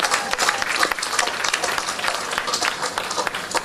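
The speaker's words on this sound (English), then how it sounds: "I want you to give BRAXA a round of applause" Crowd at the opening ceremony of a medical and diagnostic centre in Georgetown, Saint Vincent, claps in a sustained, fairly loud round of applause lasting several seconds, with no talk over it.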